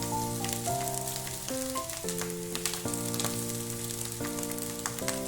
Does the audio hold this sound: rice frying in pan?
yes